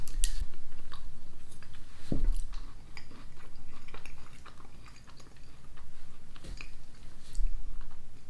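Someone chews a Mr Kipling cherry pie close up, with soft, moist mouth sounds and occasional small bites, a steady mastication running alone without talk.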